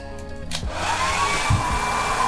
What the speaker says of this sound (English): So, hairdryer on.